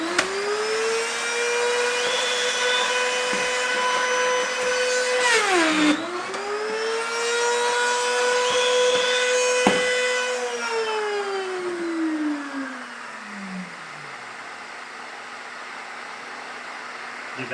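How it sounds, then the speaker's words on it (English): A Castle 110 pocket cutter with a shop vacuum hooked to its dust port runs in a workshop, a steady loud whine that dips briefly as the cutter plunges, then winds down as the motor and vacuum shut off. "Give that vacuum one more second to shut down."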